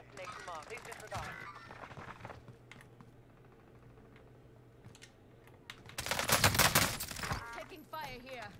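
SMG gunfire in the Warzone video game, rapid bursts of shots, one loud close volley late on and fainter rattles earlier, mixed with keyboard clatter and talking.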